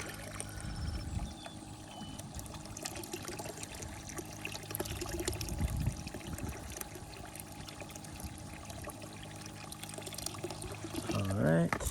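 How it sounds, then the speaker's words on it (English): Water poured into a freshly dug backyard bait pond, a faint, steady splashing trickle running throughout, with someone speaking at times and a brief louder rustle near the end. "Gonna add more water."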